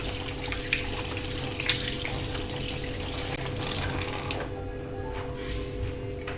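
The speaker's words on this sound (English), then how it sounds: "let me wash my hands first." Water runs steadily from a tap during hand washing, a continuous close rushing hiss that softens slightly near the end.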